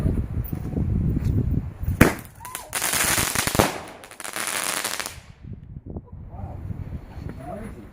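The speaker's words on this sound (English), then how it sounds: "Fireworks!" Fireworks go off on a fireworks night, with rapid crackling bursts and bangs building to a dense, loud barrage before cutting off, then scattered quieter pops; children and adults talk and exclaim throughout.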